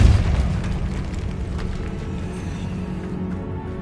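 Depulso spell blast in a Harry Potter video game, a deep booming burst that starts loud and then trails off into a long rumbling decay.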